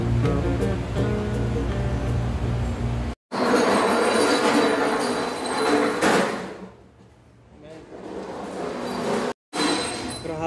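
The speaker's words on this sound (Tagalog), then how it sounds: "Grabe tong alon ngayon." Heavy sea waves in the Taiwan Strait during Typhoon Salome roar and crash continuously, swelling loudly, fading briefly, then surging again close by.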